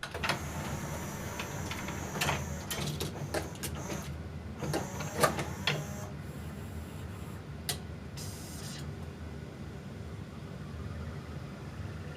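Pioneer CLD-M301 LaserDisc player and 5-disc CD changer mechanism running, a steady whirring hum of a fast-spinning disc with scattered mechanical clicks and ticks, fairly close and quiet.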